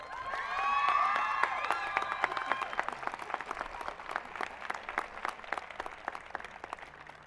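Applause and cheering from an audience at a nursing recognition ceremony, with whoops and shouts over the clapping early on, then steady clapping that carries on at moderate level and thins out slightly toward the end.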